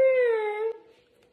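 A single drawn-out meow that slides slightly downward, clear and close, then fades into quiet.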